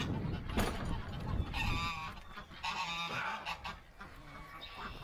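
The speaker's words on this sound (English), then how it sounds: "All the ducks are over here." Farm ducks call out in loud, nasal honking quacks, several bursts in quick succession close by, with rustling and faint background noise between the calls.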